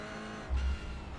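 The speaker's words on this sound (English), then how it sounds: "Braking heavy, off again, and after that apex is there." A race car's engine drones, then surges in a short loud burst as it brakes heavily and powers out of a corner, with a steady engine hum before and after.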